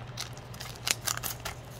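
A Yu-Gi-Oh! booster pack being torn open: a short run of crisp, crackling foil rips and crinkles, close and fairly quiet, with a few sharper snaps in the middle.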